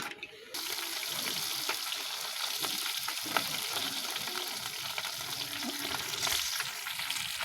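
Taro leaves fry in hot oil with a steady, dense sizzle and occasional crackles and stirring scrapes, fairly faint and continuous throughout.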